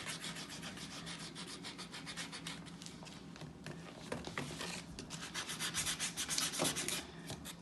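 Steady rasping strokes of sandpaper on a homemade sword blade, a continuous rhythmic scratching that builds slightly louder toward the end, close and alone with no talking.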